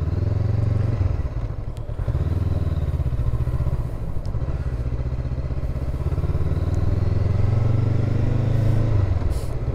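Motorcycle ride, presumably a Honda CBR, in Japan: a steady, loud, close engine drone with a low throbbing pulse and faint road clatter, continuing throughout without talk.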